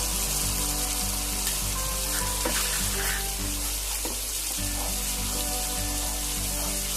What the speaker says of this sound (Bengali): মশলাটা আমাকে খুব ভালোভাবে কষাতে হবে যেন কাঁচা মশলার গন্ধটা না বের হয়